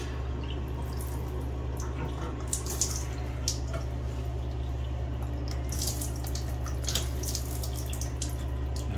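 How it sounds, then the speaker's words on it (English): Water rinsing and dripping over a cut, a steady running flow from close by with scattered small splashes and drips, fairly quiet and without talking. "All right, so that's rinsed with water."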